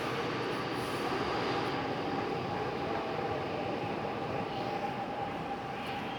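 A subway train rumbles along at a steady roar, with a constant mechanical drone and faint rail hiss, no one speaking.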